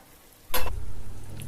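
Chicken for a country-style broad bean chicken curry hitting and stirring in a hot pan, a sudden bright sizzle burst followed by a lower steady frying rumble, close and brief.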